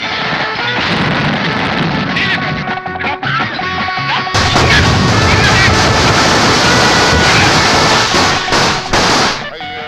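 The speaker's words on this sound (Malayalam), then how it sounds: "എന്തിനാ ആളുകൾ പടക്കം പൊട്ടിച്ചേ?" Firecrackers set off by a crowd during Vishu celebrations at a political stage event, heard as loud, continuous crackling bursts and crashes that swell heavier midway and keep going for the whole stretch.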